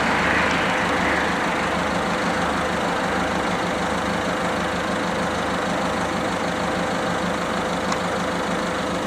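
A Peugeot diesel engine idles steadily nearby, rumbling continuously with a low knocking pulse and no other sounds.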